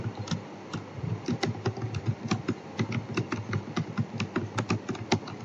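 A computer keyboard is tapped in a steady flurry of close, crisp keystrokes while a Python comment is typed, with short pauses between bursts and no speech.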